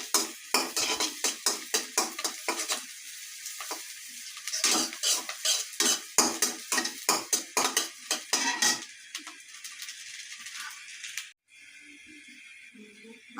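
Two slit green chillies frying with spices in a pan for potato curry, stirred with a metal utensil in quick rhythmic scraping strokes that fade into a steady sizzle near the end.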